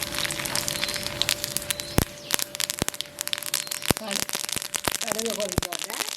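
Mustard seeds popping and crackling in hot sesame oil in a pan, with dense sizzling throughout and sharp louder pops scattered across it, while a person talks over the cooking.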